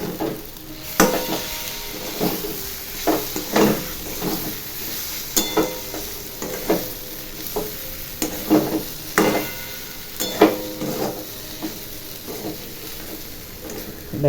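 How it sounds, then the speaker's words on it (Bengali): A spoon stirs and scrapes spices in a sizzling frying pan, the knocks and scrapes coming in an irregular rhythm over a steady fry, close and fairly loud. "একটু নেড়ে দেবো।"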